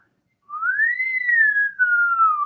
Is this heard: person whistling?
yes